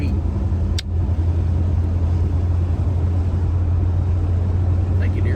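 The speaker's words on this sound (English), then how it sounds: "63 Rambler Classic Wagon. Nobody driving one of these in this county." A 1963 Rambler Classic Wagon on the road: a steady low engine drone and tyre rumble holds throughout, with a brief knock near the start and a faint chirp near the end.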